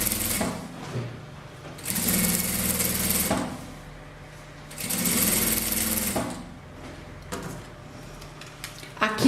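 A sewing machine runs in bursts, stitching bias binding onto the edge of a fabric rug made from scraps. Three longer whirring runs are broken by short quiet gaps with small handling clicks, and a voice speaks briefly near the end.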